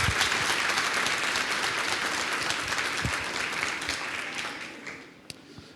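A conference audience claps together in sustained, dense applause that carries on steadily before tapering off at the end.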